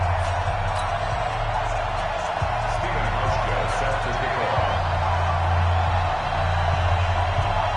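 Sold-out stadium crowd roaring in a PS4 football video game with the Bills facing Washington, a steady wash of cheering held under continuous commentator speech.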